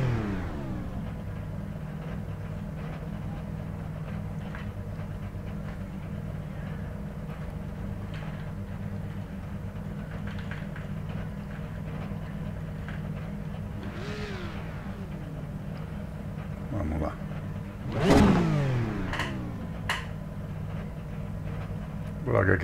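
A Porsche Cup race car at Watkins Glen in iRacing drones at steady revs from a close onboard view, then rises through a sharp rev sweep, and a voice talks over it.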